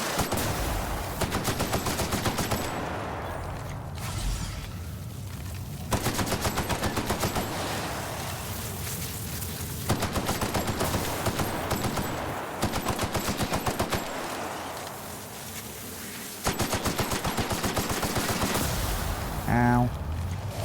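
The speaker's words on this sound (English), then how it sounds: "so that's why I'm shooting you" Video game gunfire during a boss fight: repeated bursts of rapid automatic shots, close and loud, in several salvos separated by short pauses, with a voice speaking between them.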